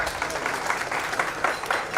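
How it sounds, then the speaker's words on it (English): Audience clapping for the government at a public forum, a steady crowd applause of many hands at moderate volume with a few louder individual claps popping out. "I think you want to clap for the government"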